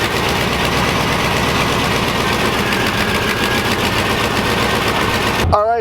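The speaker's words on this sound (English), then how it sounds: "Now I'm going to go start my truck and make sure everything's hooked up properly" 1995 Chevy C1500 pickup engine running, a loud, steady rattling idle with a fast, even mechanical chatter throughout, cut off abruptly at the end.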